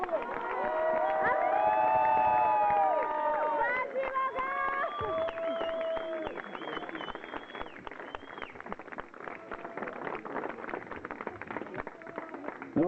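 Audience at a fiesta cheers and applauds: bright whistle-like tones and shouts open the clip, then a dense, steady wash of clapping carries on loudly to the end.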